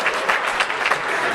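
An audience claps at a talk, producing a brief, steady patter of applause that holds at an even level throughout with no voices over it.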